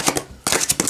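Deck of playing cards being shuffled: two quick riffle bursts of rapid papery flutter, a brief pause, then three more close, crisp riffles.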